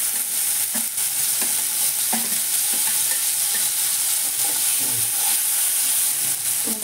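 Spices with Kashmiri chilli powder, turmeric and vegetable masala fry alongside tomato in a pan, sizzling steadily while a spoon scrapes and stirs in irregular taps, close up without talk.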